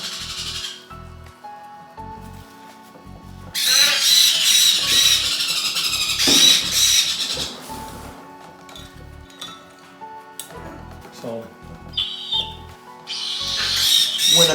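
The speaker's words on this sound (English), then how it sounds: "These are Triton cockatoos." Triton cockatoo chicks calling: loud, harsh squealing cries that come in long repeated bursts, alternating with quieter stretches of lower chatter, close by.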